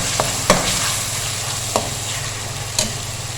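Ingredients for chana pulao frying in a pan, an even sizzling hiss with a few sharp spoon taps and scrapes spaced apart, no talking.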